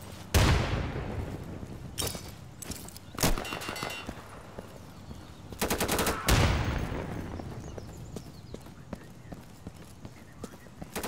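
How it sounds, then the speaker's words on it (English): Grenade blast and bursts of gunfire in an Insurgency firefight at an embassy, with loud sharp shots and heavy booms at intervals among shouted voices, then a long fading rumble. "Here comes a grenade!"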